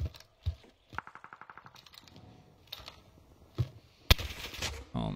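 Rapid bursts of video-game gunfire from an online battle royale shooter, with a fast, evenly spaced automatic run and a few sharp, loud single shots, heard alone without talk.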